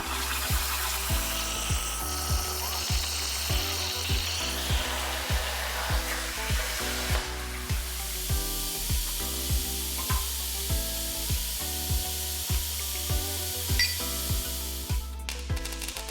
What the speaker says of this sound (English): I'll go ahead and cut out the brackets on the plasma table